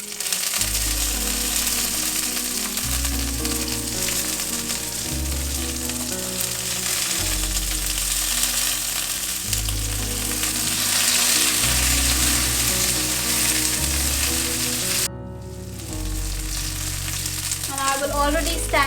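Onions and ginger frying with curry leaves and seeds in a pan for karam chutney, a loud, steady close-up sizzle lasting throughout, with a low repeating musical backing underneath and a brief dip near the end.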